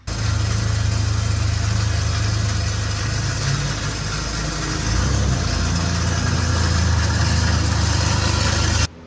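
A car on its first drive after a transmission swap, its engine a steady loud droning rumble that swells slightly as it moves and then cuts off abruptly at the end.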